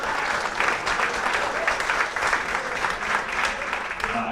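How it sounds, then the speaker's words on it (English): An audience at a high school baseball banquet claps steadily for a few seconds, a dense, even wash of applause from a room full of people. "so give it a round of applause for Eli."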